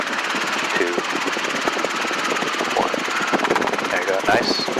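Robinson R22 helicopter entering a practice autorotation during a flight lesson, a steady close-up rotor and engine drone filling the cabin while an instructor and student talk over it.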